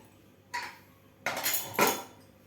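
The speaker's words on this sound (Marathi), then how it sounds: "आपलं कुकरसुद्धा थंड झालेला आहे तर झाकण काढून बघूया" Metal clanks as a pressure cooker lid is handled and lifted after cooking moong dal: one short knock, then two louder scraping clatters close together.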